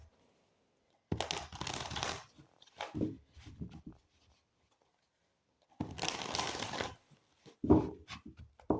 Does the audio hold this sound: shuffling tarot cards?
yes